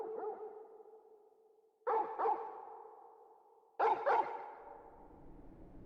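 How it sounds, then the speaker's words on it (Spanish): A dog in Final Fantasy XVI on PS5 barks in reverberant bursts, mostly quick pairs, that ring out and fade slowly. The bursts come three times at moderate volume against an otherwise quiet background. "Entró el perro conmigo."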